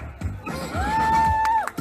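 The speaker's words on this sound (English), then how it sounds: "Oh yeah, now you cheer." Crowd at the Leicester Riverside Festival cheers as a champion cyclist performs a high stunt, one sustained voice whooping loudly in a long rising-then-held yell over a murmuring crowd, ending in a short burst.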